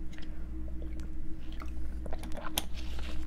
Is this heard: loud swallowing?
yes